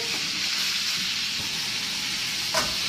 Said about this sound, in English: Now we add the mushrooms. We're going to let that cook.